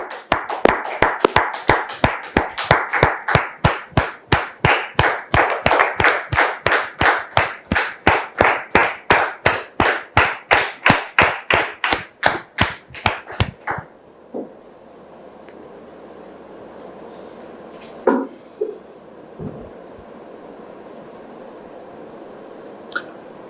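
Applause from a church audience greeting a guest named Kodjo, a dense run of sharp, rhythmic claps for about fourteen seconds, then quiet room noise with a few faint knocks.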